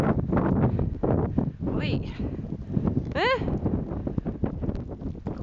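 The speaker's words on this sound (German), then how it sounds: "Kommt böser Wind auf." Strong wind gusting through a snowfall outdoors, a loud broadband rush buffeting the microphone throughout, with a voice calling out over it and brief whistle-like tones.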